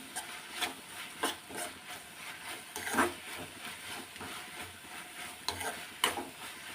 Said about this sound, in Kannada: ನೋಡಿ ಇಷ್ಟು ಫ್ರೈ ಆಗಿದೆ ಎಣ್ಣೆ ಚೆನ್ನಾಗಿ ಫ್ರೈ ಆಗಿ ಅದು ಎಣ್ಣೆ ಬಿಟ್ಕೋಬೇಕು ಚೆನ್ನಾಗಿ